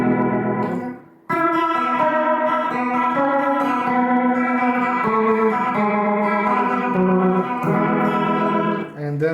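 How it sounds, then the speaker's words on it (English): A Vox Valvetronix VT40+ amplifier plays a modulated effect preset: sustained electric guitar chords and notes with chorus-like shimmer, echo and slight distortion, loud and continuous after a brief pause near the start. "Let's go to the next preset, which is an affected sound,"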